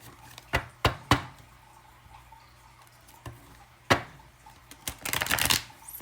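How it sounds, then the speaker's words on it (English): Tarot of the Dragoness cards are shuffled close up in sharp, scattered riffles and taps, a few isolated flicks followed by a longer rapid burst near the end. "I'm going to shuffle these cards 5 times."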